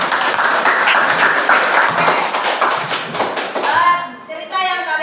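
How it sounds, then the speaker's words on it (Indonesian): A classroom of students claps for a classmate, a quick, fairly close patter of hands that fades out near the end, followed by a voice speaking. "Berikan tepuk tangan untuk Ayu."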